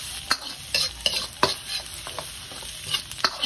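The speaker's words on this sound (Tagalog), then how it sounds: "So ayan, nagisa na tayo ng maraming bawang. Ayan sa ating wok." Lots of garlic sautéing and browning in a wok, with a spatula stirring it. A steady close sizzle is broken by several sharp scraping knocks of the spatula against the metal, and there is no talking.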